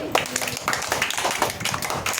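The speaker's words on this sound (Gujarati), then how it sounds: "તાળી પાડો બેટા" Children in a classroom clap their hands in a quick series of sharp, close claps, with voices of children and a teacher mixed in under and between the claps.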